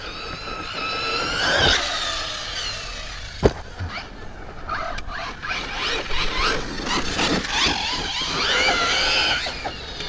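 A Sworkz Zeus RC truggy on a 4S battery whines as its electric motor revs and accelerates, with rising and falling pitch sweeps, tire scrabbling and a sharp knock midway, moderately near.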